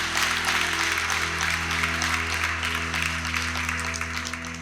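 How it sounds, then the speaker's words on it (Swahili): An audience at a Dodoma school ceremony claps steadily, a dense continuous wash of applause over a low electrical hum, even in level throughout. "Hebu ongezeni makofi tafadhali."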